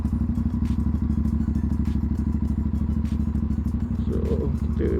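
An Aprilia RS457 motorcycle idles close by with a steady pulsing engine throb while being parked, and faint clatter and shuffling sounds rise near the end.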